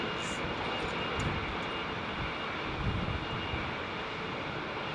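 A British Airways Boeing 777 on GE engines roars at Heathrow in a steady, broad jet rush that swells slightly midway, with no voices.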